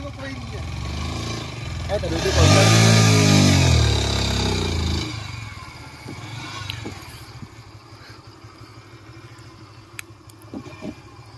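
A motorcycle revs hard as it tries to tow a car up a slope, a loud engine roar swelling for a few seconds then dropping to a lower idle, with people talking throughout.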